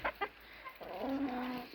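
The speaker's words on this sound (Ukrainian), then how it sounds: "13 курочок і 2 півня" Chickens cluck nearby in a flock of 13 hens and 2 roosters, a couple of short clucks followed by a longer, drawn-out hen call, fairly clear against quiet surroundings.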